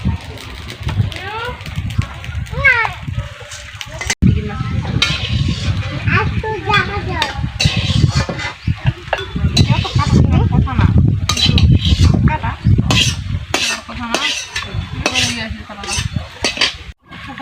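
Whole spices (coriander seeds, cumin, dried red chili and cardamom pods) dry-roasting without oil in a pan for fish chops, with repeated metallic scraping and clinking of a utensil against the pan, under steady talk.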